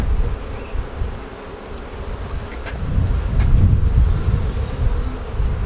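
A dense, continuous buzz of many honey bees swarms around an opened hive during an inspection of small mating nucs. The drone swells and fades close to the microphone, with faint breezy rumble underneath.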